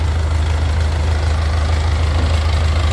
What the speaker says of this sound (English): Tractor's a little noisy right now.